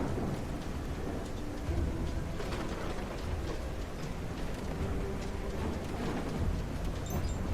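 Heavy rain with thunder in the mouse city-building game Whiskerwood, a steady dense hiss of downpour with low rumbling underneath, even and continuous throughout.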